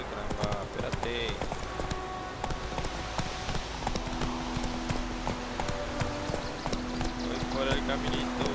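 Video game horse Roach trotting, with a steady, regular clip-clop of hooves throughout and someone talking over it.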